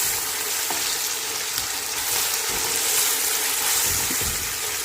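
Tomato sizzles steadily in a hot pan while being stirred for a dish of chicken cooked with rice, a close, continuous frying hiss with occasional scraping clicks and no talk.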